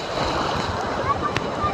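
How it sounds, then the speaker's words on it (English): Big ocean waves splashing around a boat off Myrtle Beach, a steady loud wash of water and surf, close and continuous with little break. "And these are some big waves."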